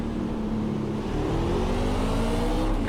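NASCAR truck engines in the iRacing video game at Richmond accelerate off the green flag, a continuous, loud droning whine of several motors rising steadily in pitch as they pull away, with no talk.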